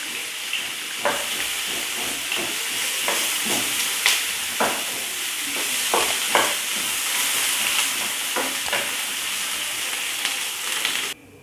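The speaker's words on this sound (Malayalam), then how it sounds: "കുറച്ച് മുളക്, കറിവേപ്പില അതിട്ട് ഇത്രയിട്ടൊന്ന് വഴറ്റിയെടുക്കുന്നു." Onion, green chili and curry leaves sauté in hot oil for a Kerala-style prawn roast, a steady loud sizzle broken by repeated scraping stirs of the spoon, with no voices.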